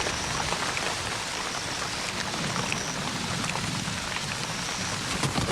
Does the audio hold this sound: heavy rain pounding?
yes